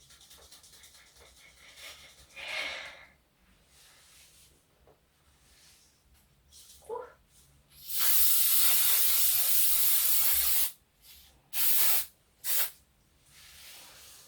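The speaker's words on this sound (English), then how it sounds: "Then I'll go in and use another spray. Oil Sheen hairspray." Oil Sheen hairspray sprayed onto hair in protective styles: one long continuous hiss of about two and a half seconds, followed by two short sharp bursts, loud and close, with quieter handling sounds before.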